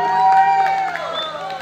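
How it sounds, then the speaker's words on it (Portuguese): Loud crowd at a live event in Triângulo, cheering and clapping for a friend, with whoops and a sustained tonal hum running through the noise. "palmas pro meu amigo que está hoje aqui no Triângulo"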